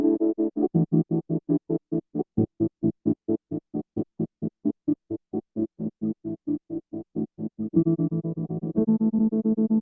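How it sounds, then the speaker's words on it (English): Stuttering granular delay effect: a fast, even train of chopped, buzzy tonal pulses that thickens and brightens near the end. "One of my favorite sounds is a high-pitched granular delay."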